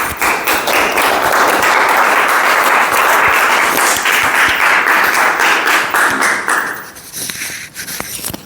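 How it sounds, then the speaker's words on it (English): Audience at a club meeting applauding, a full sustained round of dense clapping that stays loud for several seconds before thinning out into a few last claps. "Claps are the least of an encouragement for the speaker."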